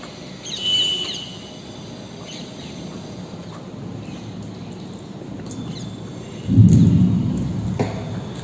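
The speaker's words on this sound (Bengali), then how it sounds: "মেঘ ডাকছে আকাশে।" Thunder rumbles low in the sky, first as a soft swell and then as a heavier, nearer roll late on, over a quiet outdoor backdrop with faint chirping.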